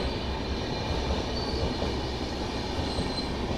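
A passenger train on the Hazrat Nizamuddin to Yesvantpur route rumbles steadily along the rails, a loud continuous roar of wheels with faint metallic squeals, heard from inside the coach without talking.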